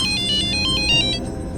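An electronic phone ringtone chirps in a quick repeating pattern of bright tones, close and clear.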